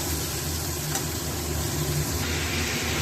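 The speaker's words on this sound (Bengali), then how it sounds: "চিংড়ি মাছটা একটু নাড়িয়ে চাড়িয়ে ভেজে নিই।" Prawns are stirred and fried in a pan, making a loud, dense, continuous hiss of sizzling oil that holds steady for the whole stretch, with no talk.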